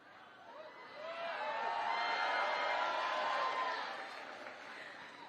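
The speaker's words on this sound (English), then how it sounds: "let's give her a hand, Kamala Harris, for being here so she can hear your applause" A crowd at a Kamala Harris campaign rally in Wilkes-Barre applauds and cheers, the clapping swelling to a peak and then easing off slightly, with no voices standing out.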